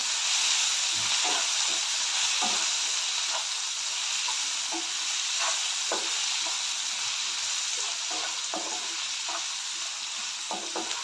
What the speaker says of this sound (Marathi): कांदा टोमॅटो चांगला भाजून घेऊया